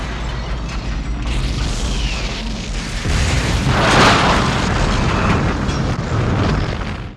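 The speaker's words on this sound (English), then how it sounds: "being remembered as the movie that blew up the Enterprise" The starship Enterprise exploding in a Star Trek III movie scene: a loud, sustained rumbling boom with mechanical rattling that swells midway and holds, dense and close with no voices.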